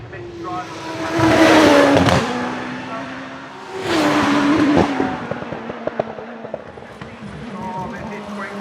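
A race car climbs the Shelsley Walsh hill with a rising engine roar in two loud, sweeping bursts a few seconds apart. A commentator talks over the engine between and during the bursts.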